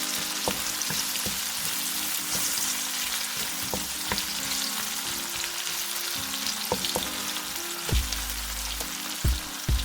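Mushrooms frying in a pan, giving a loud, continuous close sizzle with occasional sharper crackles and stirring clicks, no voices.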